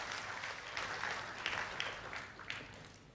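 A church congregation at a Sunday service applauds, a moderate, continuous patter of clapping heard from a slight distance with a few sharper claps standing out.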